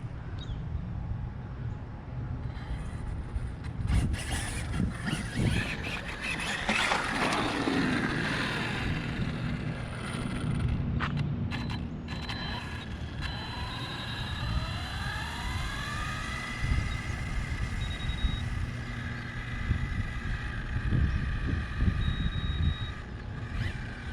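Arrma Mojave RC car driven outdoors after a shock oil change, its electric motor whining up and down in pitch over a noisy background, with bursts of crunching and clattering as it runs, moderately near.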